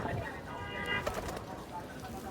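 A male pigeon, a fancy show breed, coos softly in a loft, a low murmuring call that carries through steady background noise with a faint brighter flutter around the middle.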